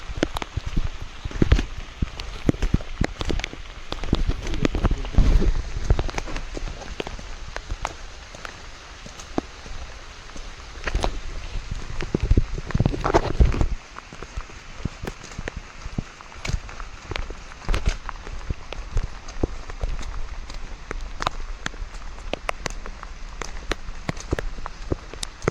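Steady rain falls on a hillside, a dense, continuous patter of drops close by that swells louder in the middle stretch before easing back to a constant wash; no voices are heard.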